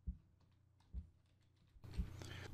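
Text is typed on a computer keyboard in Photoshop, a string of quiet close key clicks with a few heavier thumps, ending in a faster, busier burst of tapping.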